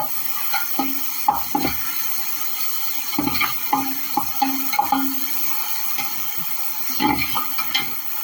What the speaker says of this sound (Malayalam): നമുക്കതിനെ നല്ല രീതിയിലൊന്ന് ഇളക്കി കൊടുക്കാം.